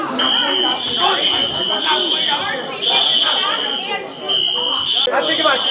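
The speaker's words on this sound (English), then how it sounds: "somebody hit the fire alarm" Fire alarm ringing continuously in an indoor volleyball gym, a steady piercing electronic tone with pulsing beeps, loud and persistent under a noisy crowd chattering throughout.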